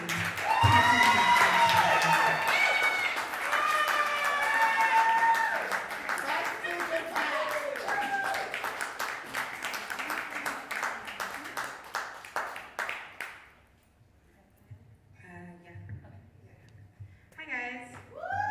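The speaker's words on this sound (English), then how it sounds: "So please clap her all the way up to the" An audience at a live music night applauds and cheers to welcome a performer to the stage, a loud dense burst of clapping that thins out into scattered claps and then a quiet pause.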